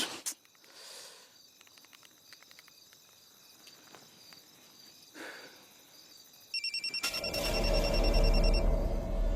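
A mobile phone rings from inside a room: a repeating electronic ringtone starts abruptly near the end and grows louder over a steady background chirp of crickets.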